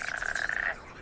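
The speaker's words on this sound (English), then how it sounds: "Frogs are breeding too, and they join in the chorus." A chorus of breeding frogs croaking steadily and close, with a dense band of overlapping calls that fades toward the end.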